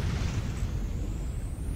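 A spaceship explodes in the space combat game Fractured Space, a dense, rumbling low roar that sustains evenly throughout, with a thin hissing tone drifting above it.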